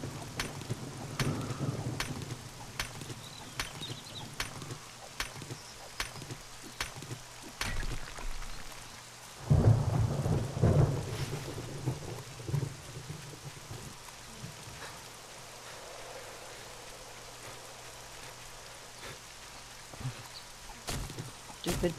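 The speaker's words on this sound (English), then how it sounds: "Yeah, it's raining." Steady rain hiss in 7 Days to Die with scattered sharp drop ticks and a brief louder rumbling swell midway, continuous and moderately quiet throughout.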